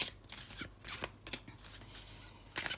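Tarot cards being shuffled by hand for a reading, a series of quiet close riffling bursts with short pauses between them, with no talking.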